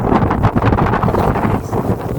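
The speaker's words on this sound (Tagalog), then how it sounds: "Lumakas ng hangin." Strong wind gusts during a snowfall buffet the microphone in loud, roaring bursts that swell and ease, with no voices heard.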